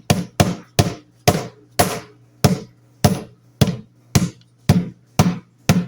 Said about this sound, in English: And then you take your hammer and you just